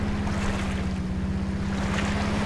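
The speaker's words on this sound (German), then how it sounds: "Wir fahren mit dem Motorboot. Und das ist ganz schön laut." A motorboat engine in the Ultimate Fishing Simulator game drones loud and close in a steady, throbbing hum, with rushing water and wind noise over it.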